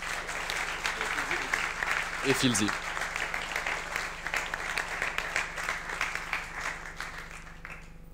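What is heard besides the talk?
audience applause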